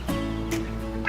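Several newly acquired farm ducks give short nasal quacks in brief bursts over a steady low hum, fairly close and moderately loud.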